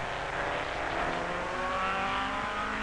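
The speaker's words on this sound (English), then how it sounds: "Grand touring car and prototype wheel to wheel in the fury of those early laps." Sunbeam Tiger grand touring cars and prototype race cars running wheel to wheel in the early laps of an endurance race, a continuous roar of engines at full throttle with shifting pitch as cars pass.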